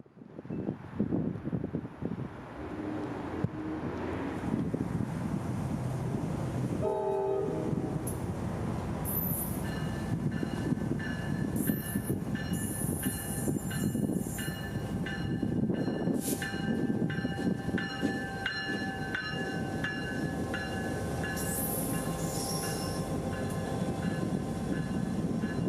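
A freight local led by a road slug locomotive rolls past steadily, with continuous rumbling wheel and car noise, metallic squeals and tonal ringing building as it passes close by, no voices.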